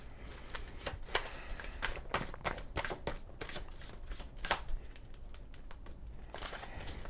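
Oracle cards are shuffled by hand in a quiet room, a soft riffling flutter of rapid papery snaps going on continuously at close range with no talking.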